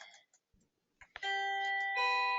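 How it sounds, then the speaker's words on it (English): A bright electronic bell or chime rings out after a couple of faint knocks, a steady sustained tone that rises in pitch partway through and carries on alone without any talking over it. "uh-oh, the bell"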